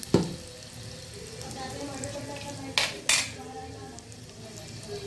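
Asafoetida goes into spices frying in oil in a pan. A low sizzle sits under sharp metal clinks of a spoon striking the pan, including a pair of loud knocks near the end.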